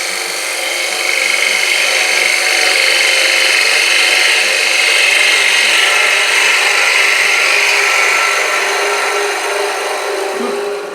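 A woodturning gouge cuts a heart-shaped wooden bowl spinning on a lathe, giving a steady, loud hissing scrape that holds evenly for several seconds before easing slightly at the end, with no speech.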